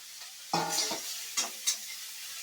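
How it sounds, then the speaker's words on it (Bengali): Eggplant goes into a pan of frying beans for Bengali shukto: a sudden burst of sizzling as it hits the hot oil, then a few quick stirring scrapes, close and fairly quiet. "এইবার আমি বেগুনটা দিয়ে দিলাম।"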